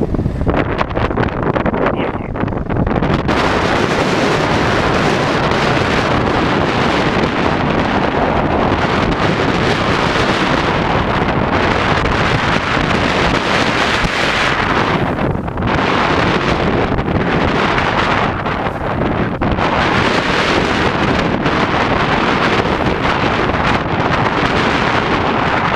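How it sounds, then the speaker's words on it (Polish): Strong wind buffets the microphone as a boat heads out from Dziwnów onto the Baltic Sea in rough 4–5 Beaufort conditions, with waves rushing and slapping, loud and continuous throughout. "Fala jak na morzu, panie Darku."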